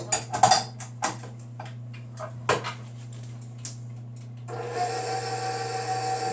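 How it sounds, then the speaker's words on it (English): Vanilla buttercream icing of Crisco, butter and vanilla in an electric mixer: a few clinks and taps over a steady low motor hum, then the mixer spins up into a louder, constant whirring drone near the end. "And then we're going to put it in the mixer. And we're going to mix it up."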